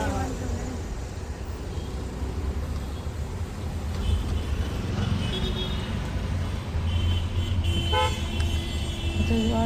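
Busy road traffic hums steadily while car horns toot and honk, with the clearest blasts near the end. Nearby voices talk throughout.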